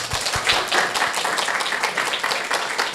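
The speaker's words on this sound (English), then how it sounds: "can we give him another applause?" Audience applause after a talk by a scientist, a dense steady patter of many hands clapping in a hall, loud and continuous with no voices over it.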